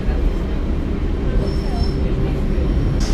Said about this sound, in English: This is a Metro A line train.